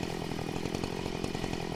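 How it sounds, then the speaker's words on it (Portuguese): A new chainsaw sound from a GTA San Andreas mod, with a loud, steady buzzing engine whine and a rapid chattering pulse throughout, close and alone. "como o da motosserra, que é nova, o áudio"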